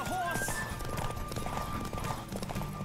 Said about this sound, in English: This horse is actually not doing too badly.